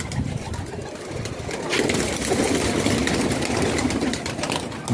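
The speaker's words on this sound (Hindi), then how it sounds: "बहुत शानदार कबूतर है।" Pigeons coo softly at a pigeon club over a dense, steady background hum, the low calls blending into the noise throughout.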